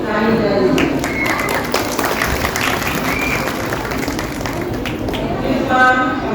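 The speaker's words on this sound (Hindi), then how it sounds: "एक बार उनके प्रोत्साहन के लिए ताली बजाइए।" Audience applause at a women's association city branch meeting in Agra, honouring senior members: steady clapping across the room, loud and sustained throughout, with a few voices under it.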